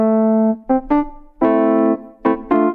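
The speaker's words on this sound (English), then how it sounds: "So let's connect now an electric piano" Electric piano played through a quantovox Spatializer, a sequence of five bright, close notes and chords, some held and some short, each with a clean attack and smooth decay.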